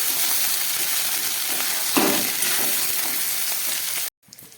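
Boiled chickpeas hit a hot pan with ginger paste and sizzle loudly, a steady broadband frying hiss with a brief surge as they go in; the sound cuts off abruptly near the end.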